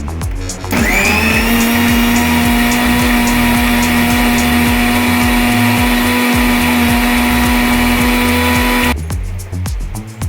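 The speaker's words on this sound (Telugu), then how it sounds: "క్లోజ్ చేసుకొని మిక్సీ జార్ని గ్రైండ్ చేసుకున్నాం" A loud mixer grinder blending oranges with water whirs at high speed, running steadily for several seconds before cutting off, with a strong continuous motor whine.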